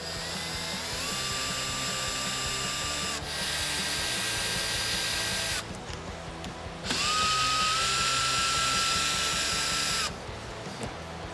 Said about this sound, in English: We're gonna go ahead and remove the 3 M6 Allen screws that are holding our factory blow-off valve into place